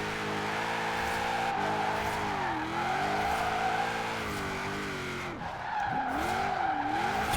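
Car tyres skid continuously while drifting side to side in Forza Horizon 4, a sustained squeal over a droning engine held near 6,000 rpm, with the pitch swooping as the car changes direction.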